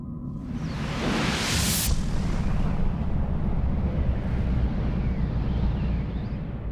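Explosion sound effect for a star blowing up as a supernova: a sudden rising whoosh bursts into a loud, deep rumbling blast that rolls on and slowly fades, with no voices.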